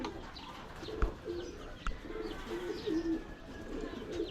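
Racing pigeons in a loft give soft, repeated throaty coos, close and moderately loud, with a few brief chirps and faint clicks in the background and no talking.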